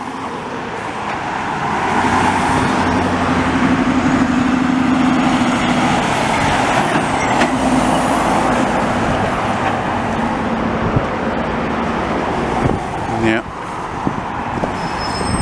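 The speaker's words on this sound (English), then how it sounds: "that truck sounds good" A truck rolls past on a Montreal city street, its engine and tire roar building loud and close over several seconds amid steady traffic noise, with a short hiss near the end.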